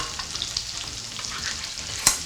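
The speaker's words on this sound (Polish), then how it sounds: "smażymy około 2 minut" Steady sizzling of peppers frying in a pan for shakshuka, with light stirring scrapes and a sharp clink near the end; no voices.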